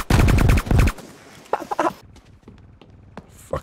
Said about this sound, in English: Fucking love the sound of that gun when it's suppressed.